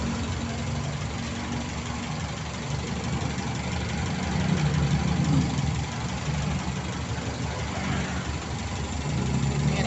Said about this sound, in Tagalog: nag-idle po siya